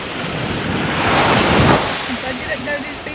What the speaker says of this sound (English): I didn't know this beach was here.